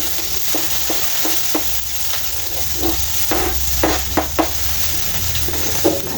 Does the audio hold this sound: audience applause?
no